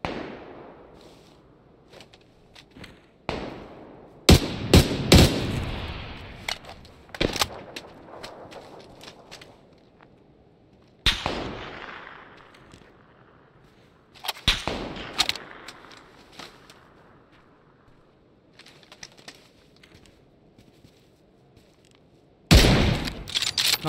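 Gunfire in a desert battle royale game on the Miramar map: sharp, loud shots in scattered single cracks and quick bursts, with quieter stretches of ambient background between volleys.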